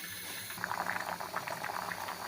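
Water bubbles at a rolling boil in a pot of raw mangoes, a soft, steady burbling that starts up after a moment of quiet hum and continues throughout.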